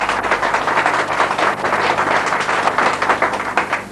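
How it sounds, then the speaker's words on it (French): Thunderous applause for El Hadj Djeriba Diaby at a Guinean ceremony, a sustained dense wash of many hands clapping that holds steady throughout. "Des tonnerres d'applaudissements pour Djeriba Diaby."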